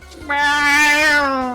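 A single long, drawn-out cat meow from a cat riding a motorbike in the Ace Attorney video game, loud and clear, with a brief voiced exclamation at the start.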